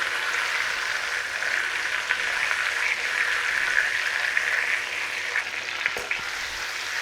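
Pork chops fry in a pan over low to medium heat, a loud, steady, close sizzle lasting throughout, with a faint clack near the end as they are turned over; no voices.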